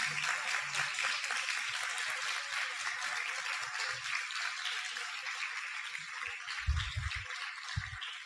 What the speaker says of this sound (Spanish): Vamos a darle un aplauso al Señor por este tiempo.